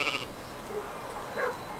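Sheep on a farm bleat a few times, one call at the start and another near the end, fairly faint over a soft outdoor background.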